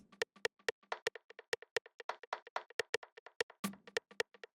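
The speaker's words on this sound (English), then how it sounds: "So this is just that percussion you hear throughout the track." A drum rack plays a sharp, dry percussion pattern for a deep minimal house track, with rapid clicky hits and claps in a tight, syncopated loop, loud and alone.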